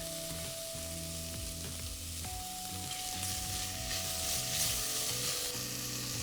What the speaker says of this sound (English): You want to make sure you toast that in the pan.